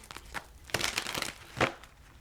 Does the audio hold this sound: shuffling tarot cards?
yes